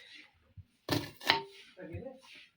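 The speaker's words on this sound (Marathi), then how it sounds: "हा बघा इथं कांदा कापतोय." An onion is chopped with a knife while making bhel at home in a Konkan village kitchen, giving a couple of close, dull thunks on a board, with a voice speaking around them.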